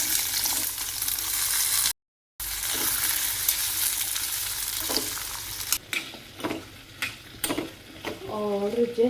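Cumin, nigella seeds, fennel and asafoetida crackle and sizzle loudly in hot oil for a tempering, with a brief cut in the sound and stirring clatters later on.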